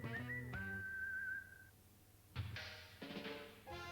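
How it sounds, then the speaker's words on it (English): A person whistles a bright sustained tone in a television commercial, starting with a short rising phrase and then holding one long steady note before fading, followed by unrelated sounds. "All you have to do is whistle."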